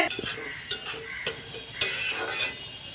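Spices with cardamom stirred and fried in a pot, a faint sizzle under a few sharp scraping clinks of a spoon against the metal, spaced irregularly.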